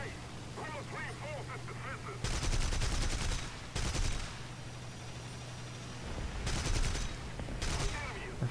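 Bursts of machine-gun fire strike the player's aircraft in the War Thunder combat flight game, coming as several loud, rapid rattling volleys separated by short pauses, with someone talking beneath the earlier stretch.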